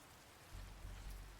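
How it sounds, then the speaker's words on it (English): Toxic acid rain falls in Minecraft as a soft, steady hiss of rain, with a low rumble swelling faintly beneath it, quiet and without talk. "I just noticed this rain, it's toxic. It's causing damage."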